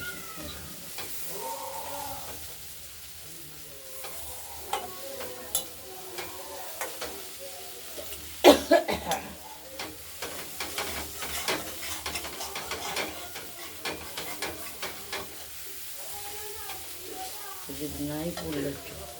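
Diced potato with chopped cauliflower frying in oil in a wok, with a spoon stirring and scraping in repeated bursts over a constant close sizzle; no talk is heard.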